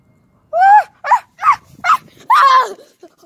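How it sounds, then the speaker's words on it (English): A dog barks about five times in sharp, close, loud yips with short gaps between them while chasing someone. "Dog almost bite my ass."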